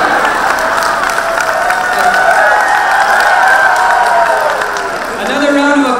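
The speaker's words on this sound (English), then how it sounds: "Another round of applause for these kids." Sustained applause with cheering from a crowd at a Mahavir Jayanti celebration of the Jain Society of Chicago, honoring children who performed. The clapping is dense and steady throughout, with voices mixed into the din.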